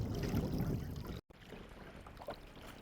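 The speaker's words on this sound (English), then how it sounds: "We have about 1 kilometer of paddling until we hit our next portage." Canoe paddling on the Little Madawaska river brings a steady wash of splashing and trickling water, dipping briefly to silence and then continuing more softly with light drips.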